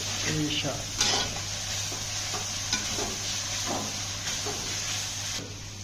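Ginger, garlic and spices for a crab curry sizzle steadily in hot oil. A spatula stirs and scrapes against the pan in soft repeated strokes, and a low electrical hum sits underneath; someone talks over the cooking.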